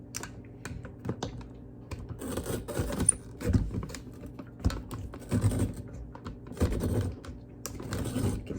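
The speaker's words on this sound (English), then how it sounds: "You can hear it grinding." A Cuisinart spiralizer grinds and crunches against a potato that sticks in the blade, giving irregular scraping, clattering and creaking bursts, close and moderately quiet, with no talking.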